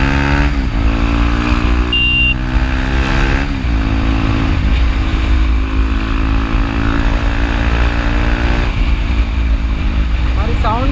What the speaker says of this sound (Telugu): నేను జస్ట్ మీకు ఎగ్జాస్ట్ సౌండ్ వినిపిస్తాను